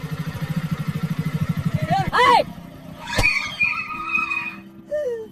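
A single motorcycle rider's engine drones steadily and close for about two seconds, with rhythmic throb, then gives way to squeaks, a sharp crack and scattered mid sounds; voices are not evident.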